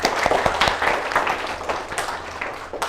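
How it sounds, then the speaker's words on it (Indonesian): Students in a classroom clap for a classmate named Gle, giving a loose round of sharp, uneven handclaps at close range that thins out toward the end. "Tepuk tangan untuk Gle."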